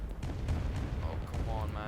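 Artillery fire in the Roblox strategy game Rise of Nations, with Burkina Faso fighting Nigerian forces; low, rumbling booms and muffled blasts roll continuously at a quiet level, with a few sharper cracks on top.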